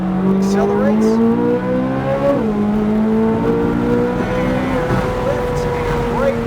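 A supercar engine accelerating on a track, loud and close, rising through a continuous roar with a gear change partway through as the revs climb again.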